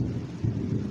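Thunder rumbles low and steady during rainfall, a short, continuous deep roll at moderate loudness with no voices.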